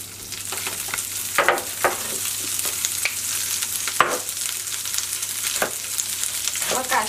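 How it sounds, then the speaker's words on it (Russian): Butter melts and sizzles in a hot frying pan, giving a steady close crackle broken by occasional sharper pops and stirring scrapes, with no one talking. "Пока сливочное масло очень быстро сейчас тает на сковороде"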